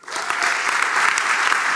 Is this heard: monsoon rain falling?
no